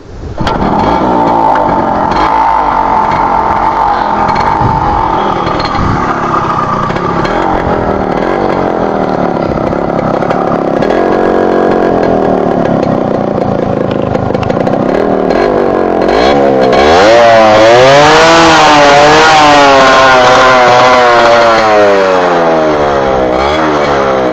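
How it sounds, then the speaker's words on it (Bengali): A Yamaha RX100 two-stroke motorcycle engine runs loud and steady close by, its rough two-stroke note rising and falling as the throttle is blipped and revved toward the end. "সো বাইকটার আওয়াজটা এখন আপনাকে দেখাবো, সাউন্ডটা দেখেন কত সুন্দর আছে"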